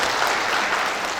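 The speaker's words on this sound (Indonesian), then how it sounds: "saya ingin kita semua untuk tepuk tangan sekali lagi kepada Tim Tour and Travel" Audience applause at a company launch event for a travel agency in Gorontalo, a dense, steady burst of many hands clapping, loud and close throughout the short moment with no voices over it.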